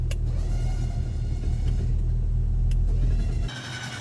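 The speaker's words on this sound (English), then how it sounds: "With JF positioned in line with the pole, he signals Marie and the Rubicon to start winding in the winch." A Jeep Rubicon's engine rumbles steadily up close while it winches a drowned Ford Bronco out near a bridge, the deep drone holding for several seconds before dropping off abruptly.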